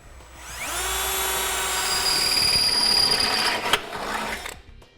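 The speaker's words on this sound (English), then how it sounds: "we can take a smaller bit and we'll drill the pilot hole" A power drill bores a pilot hole for a base plate bolt on a 2015 GMC Terrain, spinning up quickly, whining steadily for about three seconds, then slowing and stopping with a brief clunk, close and loud.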